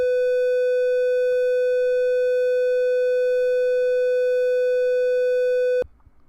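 A steady, pure-sounding electronic tone holds at one pitch for about six seconds, then cuts off abruptly, leaving faint background noise.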